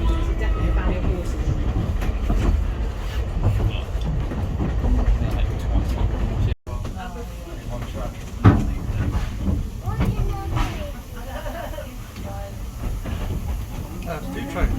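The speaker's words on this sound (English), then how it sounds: "Wow, that's a much bigger train, isn't it?" A Vale of Rheidol steam train rumbles and clatters past nearby at Devil's Bridge with hissing and rhythmic wheel clicks, while people talk over the noise throughout.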